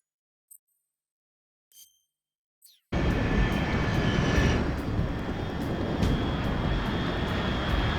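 An aircraft flies overhead in the video game Metal Gear Solid Delta: Snake Eater. A few faint clicks give way to a sudden, loud, steady roar of engine noise that fills the rest of the clip without letup.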